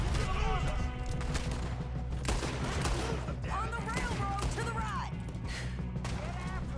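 Rapid gunfire from a Red Dead Redemption 2 shootout during the game's ending missions, dense and continuous over music and ambient noise, with vocal sounds mixed in near the middle.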